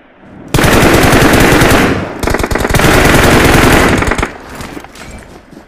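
Rapid automatic gunfire in the BGMI battle royale game comes in long, loud, continuous bursts with a brief break between them, then fades into scattered quieter shots.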